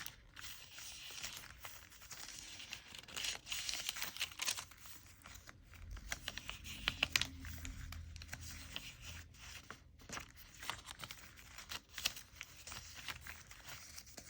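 Yellowed pages of an old book, with loose papers tucked inside, flip steadily in a long, soft run of papery rustles and crinkles.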